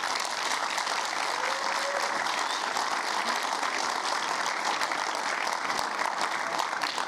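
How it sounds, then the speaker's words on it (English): An audience at a white coat ceremony applauds continuously, a dense, even wash of many hands clapping that holds steady from start to finish at moderate distance. "give them a round of applause, please."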